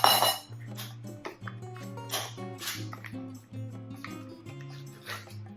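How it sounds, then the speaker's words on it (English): Whipped cream cheese is handled in a kitchen, with the container opened and the cheese scooped into a bowl, giving scattered clinks, scrapes and soft taps at close range, quiet and irregular. "open up our cream cheese, put it in the bowl"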